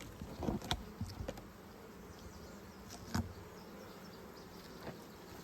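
Honey bees buzz around nuc hive colonies in a quiet outdoor setting, with faint, soft humming and a few brief louder passes as individual insects fly close.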